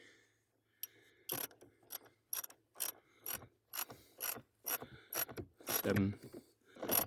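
Socket wrench ratchet clicking on the blower resistor of a 2005 Toyota Tacoma, a series of close, crisp bursts in an uneven rhythm with short pauses between strokes and no talk.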